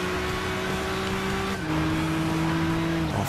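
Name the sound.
car accelerating in video game Gran Turismo 6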